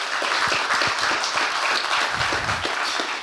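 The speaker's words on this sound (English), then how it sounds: "Big round of applause." Audience applause at an arts and economy community talk, brisk, close and dense clapping from a crowd that stays loud and steady throughout.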